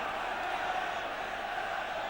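Faint, distant crowd noise from a 1993 Five Nations rugby match in Wales, a steady wash of cheering and murmuring from the stands without clear peaks.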